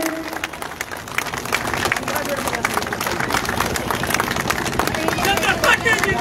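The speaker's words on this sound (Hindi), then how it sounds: "जोरदार तालियों से आप लोग पूरा एक बार अपने अतिथि महोदय का स्वागत करें" A crowd at an outdoor election public meeting in Gyanpur, Bhadohi, applauds to welcome a guest: dense, sustained clapping that holds steady and loud throughout, with crowd voices mixed in.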